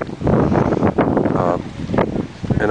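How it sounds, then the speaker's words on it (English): Strong wind gusting at the Dardanelles strait in Turkey, a loud steady roar buffeting the microphone and rising in bursts, with a person talking over it. "It is so windy."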